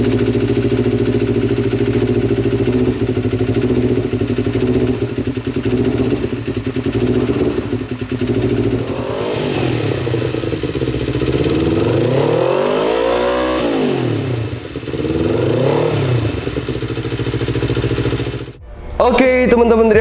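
Performance exhaust on a Kawasaki Ninja 250 FI motorcycle, an engine droning steadily then revving up and down in several sweeping blips near the end, with a brief drop before a final burst.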